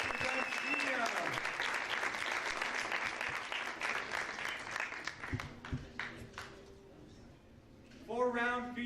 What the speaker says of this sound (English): Big round of applause for Jordanne